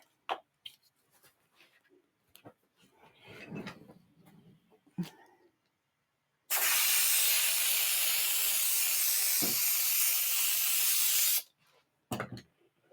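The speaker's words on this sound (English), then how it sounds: "I have some spray adhesive." Can of spray adhesive hisses in one steady, loud blast lasting about five seconds, framed by quieter rustling and handling of paper and craft materials.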